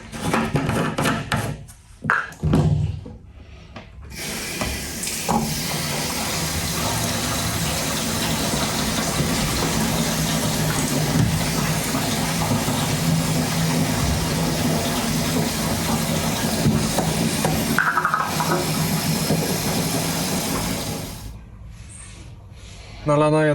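Water pours steadily and loudly into a 25-litre canister in a toilet for about twenty seconds, a continuous rushing fill with a few knocks at the start and end.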